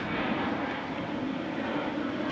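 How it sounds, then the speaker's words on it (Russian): An airplane flies overhead in a US neighborhood, a steady broadband roar that stays constant and moderately loud for the whole stretch with no talk. "Самолеты летают."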